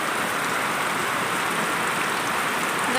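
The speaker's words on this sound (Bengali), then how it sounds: "সকাল সকাল কি জোরে বৃষ্টি" Heavy morning rain falls in a steady, dense hiss, close and continuous with no break, loud enough to fill the whole scene.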